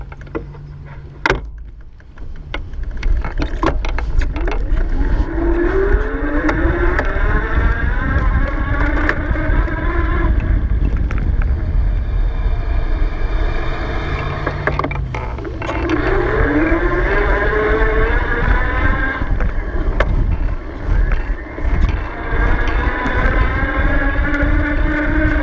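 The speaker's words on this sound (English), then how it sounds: "pedal along in pedal assist level 5 so you can hear the motor starting and stopping" The electric hub motor of a Velec R48 e-bike, ridden in pedal assist level 5, whines up in rising tones, drops out, then spins up again, heard over constant wind and road rumble while riding.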